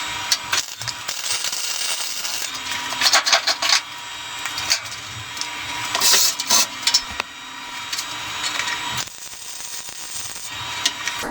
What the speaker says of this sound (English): I'm focusing most of my heat with the MIG gun towards this heavy piece